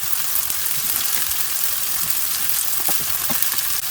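Soaked, washed rice toasting in a hot pan with fat, giving a steady, dense sizzle throughout with faint scraping stirs near the end, close and fairly loud, no talking.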